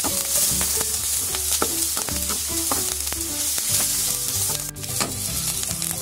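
Garlic and cashew nuts sauté in a hot pan for a paneer butter masala base, a steady loud sizzle broken by repeated sharp clicks and scrapes of a spoon stirring, close up with no talking.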